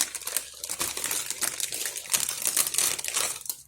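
A plastic bag of food packed with LED strip lights is ripped and crinkled open up close, a dense, continuous burst of crackling, tearing and rustling for a few seconds.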